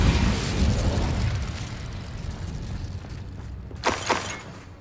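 An Incendio fire spell in Hogwarts Legacy bursts with a loud, roaring whoosh that slowly fades, followed by a couple of sharp pops and crackles near the end.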